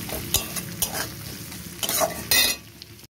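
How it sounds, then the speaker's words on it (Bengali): Chopped onion sizzling in a frying pan as it is stirred for a spicy boal fish dish. A close crackling fry is broken by sharp scraping strokes and ends with a brief pause and a clank, with no voices. "পেঁয়াজ কুচিটাকেও ভালো করে ভেজে নেব।"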